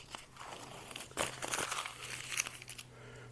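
Tape peeled and crinkled away from a Hipshot A-style guitar bridge, a close series of soft crackling rustles with a sharper tearing burst midway.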